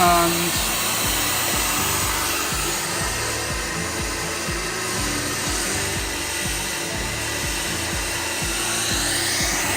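Heat gun blowing hot air across faded plastic car trim, a loud continuous close roaring whoosh with a low fluttering pulse underneath, held steady throughout while a voice speaks briefly.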